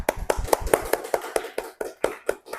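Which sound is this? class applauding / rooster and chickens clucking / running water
class applauding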